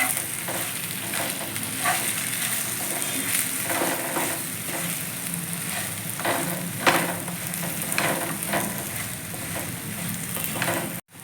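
Drumsticks being stirred and fried in a pan for a dry curry, giving a continuous close sizzle with repeated scraping and stirring strokes, no voices.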